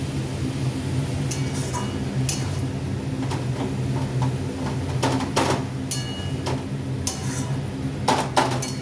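A spoon scrapes and clinks against a metal pan as spices are stirred while cooking rui fish with bottle gourd, irregular taps and scrapes over a steady low kitchen hum, with no talking.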